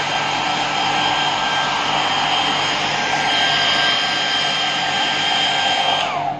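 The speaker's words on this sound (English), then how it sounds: "then you have to blow dry it on your other side part" A hair dryer roars continuously at fast speed and medium heat while blow-drying hair, a loud, steady whooshing blast with a faint tonal whine, close by, cutting off at the very end.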